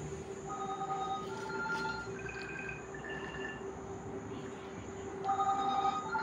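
A phone ringtone chimes faintly in a home kitchen, short tonal bursts that repeat over a quiet background hiss.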